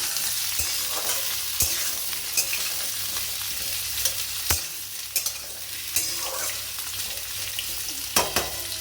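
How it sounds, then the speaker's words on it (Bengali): Boiled potatoes fry with cumin in a pan, a steady sizzle broken by repeated sharp scrapes and knocks of a spatula stirring them, close and without talk. "এবারে আলুগুলো দিয়ে ভাজবো।"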